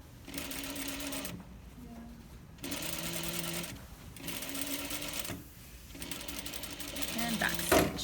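Home sewing machine stitching a centered zipper, running in several bursts of steady mechanical whirring separated by short pauses, up close, with a person talking in between.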